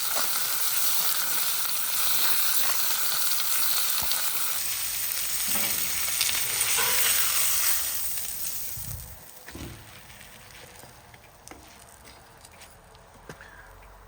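A prime ribeye steak sears on a Traeger Flatrock griddle with loud, dense sizzling and spitting grease that fades to quieter crackles and occasional pops.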